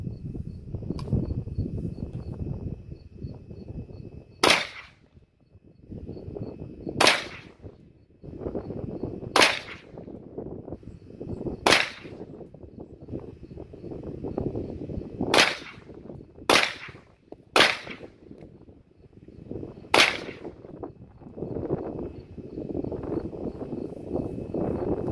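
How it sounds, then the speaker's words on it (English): AR rifle fired outdoors in a series of about eight sharp, loud shots at irregular intervals, each a sudden crack standing out over steady background noise. "let's hit it with the AR"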